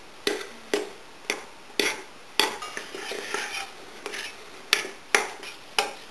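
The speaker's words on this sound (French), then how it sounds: "donc on mélange bien la pâte" Bread dough for a country loaf being worked with a pastry scraper, giving a run of sharp scraping knocks against the bowl at an uneven steady pace, close and fairly loud with no talk.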